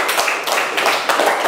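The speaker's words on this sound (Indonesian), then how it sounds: "Tepuk tangan dulu." A classroom audience at a group presentation claps loudly and densely for a moment, a close burst of many hands with no speech.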